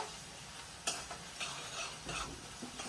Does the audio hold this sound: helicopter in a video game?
no